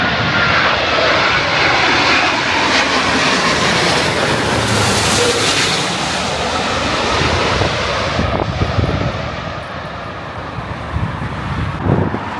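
An Airbus A350-1000 airliner in Virgin livery passes overhead near London, a loud broad engine roar that builds and then slowly fades away, with no talk.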